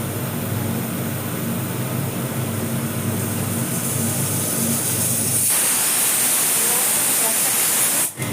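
Steam hisses steadily from a pressure cooker on a gas stove as curry cooks, a loud continuous rushing noise that turns sharper and brighter partway through before cutting off abruptly.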